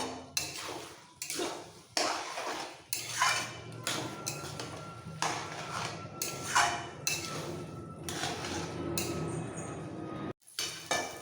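Fish-head (rohu) and cabbage ghonto stirred in a cooking pan, with a utensil giving repeated clinks and scrapes against the metal in an uneven rhythm, close and moderately loud, with no talking.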